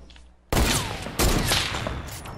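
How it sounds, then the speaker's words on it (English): A heavy sniper rifle in Fortnite fires two loud, close shots about half a second apart, each a sharp crack followed by a long, rumbling decay, with no voices. "I had to reload my heavy sniper so I could snipe you in the face."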